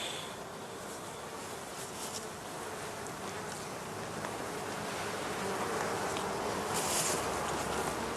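Bees buzz steadily around hives at migration stands, a dense continuous hum with individual insects flitting nearby, growing slightly louder toward the end.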